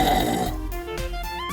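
A burp acted out with plush toys, one deep rumbling belch that tails off into a few shorter, quieter croaks, close and loud.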